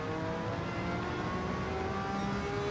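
Ford P4 race car in Gran Turismo 7 at a Le Mans race, its engine a steady whirring drone heard under heavy lashing rain that almost drowns it out.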